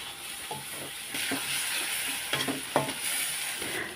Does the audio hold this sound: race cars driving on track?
no